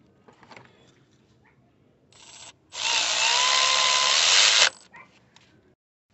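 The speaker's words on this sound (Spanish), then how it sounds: "Vamos a darle un pequeño ajuste con la matraca." A ratchet wrench snugs a bolt on a VVT solenoid of a 2006 Mazda3 2.3, close and fairly quiet: short clicking bursts, then a steady ratcheting run of about two seconds and a few scattered clicks.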